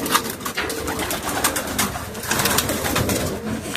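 White long-distance homing pigeon cocks cooing, a dense chorus of overlapping soft throaty coos from many birds close by, continuous and fairly loud.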